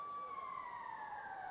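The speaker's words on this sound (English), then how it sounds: "the siren goes to end this second period of play" A siren in an ice hockey arena sounds to end the second period of a 1989 NHL playoff game, a steady, slightly falling wail heard from a distance over faint crowd noise.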